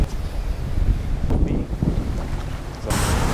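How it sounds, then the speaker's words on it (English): Strong gusty wind at a pond buffets the microphone in a steady loud roar that swells and eases over a few seconds, with no voices. "It is ultra windy here"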